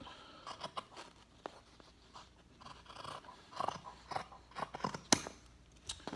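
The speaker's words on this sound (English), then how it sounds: "So what I'm gonna do is just cut along the sleeve seam." Scissors cutting along the sleeve seam of a T-shirt, a series of close, crisp snipping clicks at an irregular pace, fairly quiet, with no talk.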